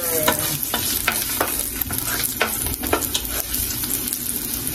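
Ginger frying in a pan for Bicol Express: a close, bright sizzle broken by repeated scraping stirs in a quick, uneven rhythm, with no speech.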